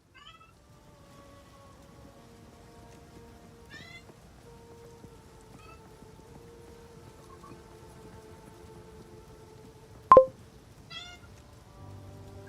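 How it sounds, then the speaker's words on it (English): A cat meows several times in short calls against a quiet room with a low steady hum, plus one sharp loud click midway. "Yes, cats."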